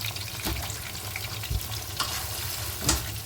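Ginger, onion and garlic sizzle in a pan with a steady crackling hiss, broken by a few louder spits and stirring knocks, with no talking.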